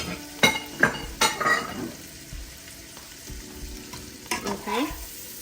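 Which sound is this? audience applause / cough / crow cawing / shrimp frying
shrimp frying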